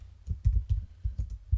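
A computer keyboard clatters with quick, uneven keystrokes, close and distinct, about a dozen clicks in rapid succession with no voice.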